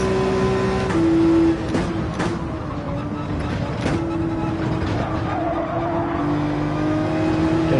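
A race car in Gran Turismo 7 driving with its front left tire missing, a steady droning engine held at low throttle with shifting tones, scraping and a few sharp knocks, loud and close throughout.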